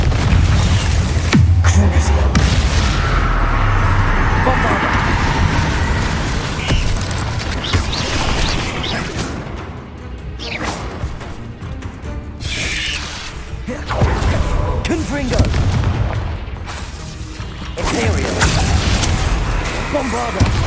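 Explosive spells like Bombarda and Confringo go off in Hogwarts Legacy combat, with loud booms and crashing impacts over a dense mechanical, rumbling game soundscape while a voice calls out at points.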